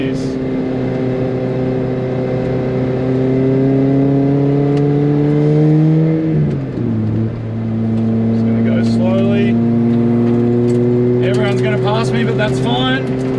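A supercharged Lotus sports car on a race track, its engine droning loud and steady from inside the cabin. The pitch rises through the gears and dips briefly at a shift midway, with a whining supercharger on top.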